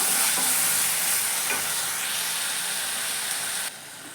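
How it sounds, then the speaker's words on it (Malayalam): Chopped tomatoes cook down in a pan for a green pumpkin mezhukkupuratti stir-fry, giving a steady close sizzle with soft stirring scrapes that cuts off near the end. "അപ്പോൾ നമുക്ക് ഈ തക്കാളി നന്നായിട്ടൊന്ന് വേവിച്ചെടുക്കാം"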